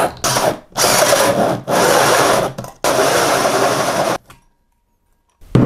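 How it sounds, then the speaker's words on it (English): A power drill bores through a ceiling for a pot light installation, cutting in loud, harsh bursts with brief pauses between them, then it stops and goes quiet near the end. "And now let's just start drilling right through it."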